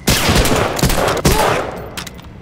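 Rapid bursts of automatic gunfire from a World War II shooter, Medal of Honor Allied Assault, loud and close, a dense volley of shots with brief gaps before trailing off, no voices.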